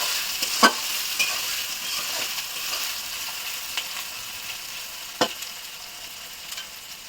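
Country rooster chicken curry frying in a pan at night, with a soft steady sizzle and occasional scraping stirs of the spoon, fairly quiet and close with no talking.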